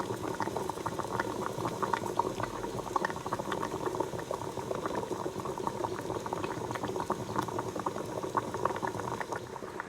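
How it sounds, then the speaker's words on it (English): A container of oil sits heating in a pot of water over very low heat, giving a steady, continuous bubbling and simmering that stays close and even throughout, with no talking. "So I'll be putting this one inside hot water on a very, very low heat."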